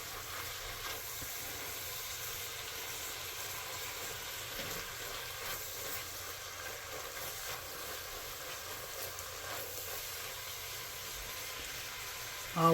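Garlic sizzles steadily in a pot, a soft, even frying hiss that stays constant and fairly faint throughout, with no talk over it.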